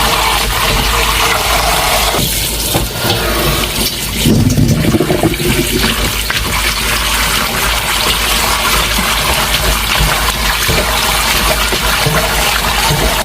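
Soaked young napa cabbage greens are rinsed by hand in a basin, giving a loud, steady wash of splashing and sloshing water close by.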